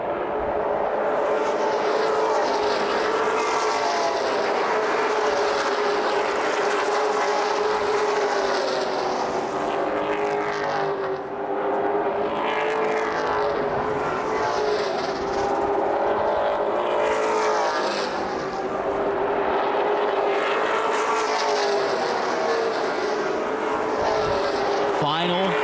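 Stock cars of the JEG'S CRA All Stars Tour race in the Fall Brawl 100 at Lucas Oil Raceway Indianapolis, their engines droning loudly and continuously with rising and falling passes. A commentator talks over the engines.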